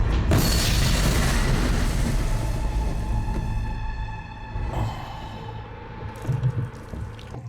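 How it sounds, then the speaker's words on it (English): A flashbang grenade goes off in a TV drama, a loud booming blast with a long ringing, hissing tail that slowly fades over several seconds, with no voices over it. "Just a flashbang."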